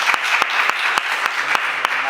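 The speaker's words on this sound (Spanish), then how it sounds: "Pues un aplauso." Audience at an academic conference session applauding, a continuous, fairly loud patter of many hands with a few sharp, regularly spaced claps standing out near the front.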